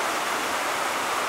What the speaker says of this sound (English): You see the water coming out of that pool right there above